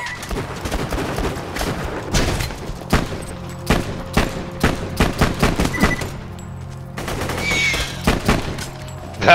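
Gunfire in the video game Borderlands 2: a run of sharp, loud shots fired in irregular bursts, some in quick succession, with short pauses between volleys and a final hard report at the end.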